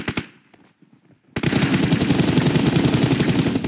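Gunfire in the mobile battle game PUBG Mobile: a few sharp shots open, then after a short lull a loud, sustained burst of rapid automatic fire rattles on without a break.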